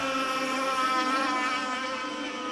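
Several racing monohull motorboats drone across an LS-27 race course, a steady high-pitched engine whine holding at constant loudness from start to finish.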